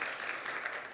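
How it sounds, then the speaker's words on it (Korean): Church congregation applause for the worship instrument team, a brief, dense burst of many hands clapping, steady and fairly loud, with no speech over it. "악기팀 박수를 한번 축복해 주세요."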